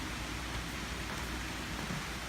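Steady rain falls outside a house during a storm, a constant soft hiss with low rumble underneath, moderately faint and unbroken, with no voices.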